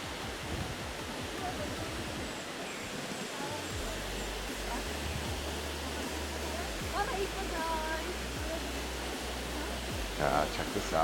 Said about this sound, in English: Falls are coming into view.